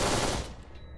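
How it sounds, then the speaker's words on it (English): Gunfire in the video game Kane and Lynch 2: a loud, close burst of rapid shots that fills the first half-second, then quickly trails off into a fading rumble. "them bullet noises sound crazy"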